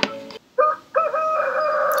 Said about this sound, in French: Le petit cri du coq qui nous réveille de mon matin.